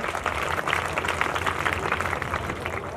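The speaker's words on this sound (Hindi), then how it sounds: "श्री विजेंद्र सिंह जी के लिए भी एक बार तालियां, अपने मैथ मास्टर।" Steady applause from a crowd at an Independence Day school event, many hands clapping continuously for a few seconds, dense and fairly loud.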